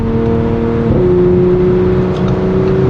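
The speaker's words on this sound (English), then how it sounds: "You can hear the turbo flutters a lot more as well, and you can hear the turbo sounds pretty much brings the car alive." Audi S5 Sportback fitted with a GFB diverter valve, its engine holding a loud steady drone that shifts pitch near the one-second mark, with faint turbo whoosh and flutter traces later, no voices.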